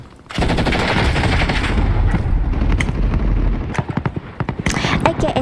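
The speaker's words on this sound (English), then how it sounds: "This game, I'm using my AK. And my sniper." Video game gunfire from an AK rifle and a sniper rifle: a long rapid burst of automatic fire, then scattered sharp single shots and short bursts, loud and close.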